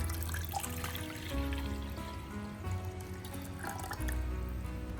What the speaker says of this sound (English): pour 500 milliliters of clean water into the pot.